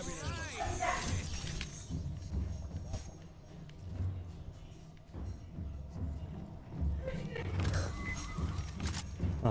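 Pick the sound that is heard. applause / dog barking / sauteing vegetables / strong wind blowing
dog barking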